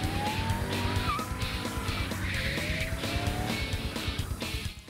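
A drift car in a French Drift Championship run, with sustained, rising tire squeals over a loud, steady engine roar, continuous for several seconds before easing off at the end.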